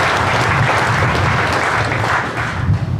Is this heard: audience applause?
yes